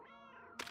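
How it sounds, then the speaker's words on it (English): A cat meows in the Another Sight video game: one drawn-out meow, fairly faint and alone, followed by a brief noisy burst. "Meow, meow, meow. Meowing intensifies."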